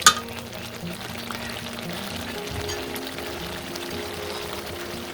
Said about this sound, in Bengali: এখন দিচ্ছি জিরা বাটা, রসুন বাটা এবং আদা বাটা।